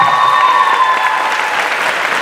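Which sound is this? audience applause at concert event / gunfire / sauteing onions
audience applause at concert event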